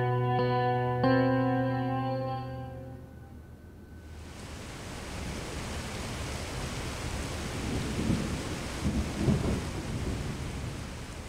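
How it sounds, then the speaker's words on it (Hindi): Steady rain hisses with low rolling thunder rumbling through it. A sustained musical tone fades out at the start before the downpour takes over, with no voices. "बारिश हो रही है"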